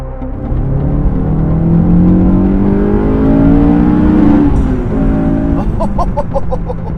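A Honda S2000 sports car engine revs hard and climbs through the gears on the open road, loud and close, its pitch rising then dropping between shifts.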